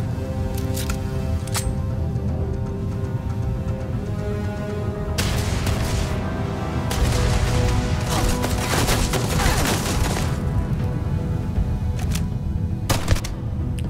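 Gunfire in Starfield, sharp reports in scattered bursts and single shots over a steady background rumble, some rapid volleys clustered near the middle and end.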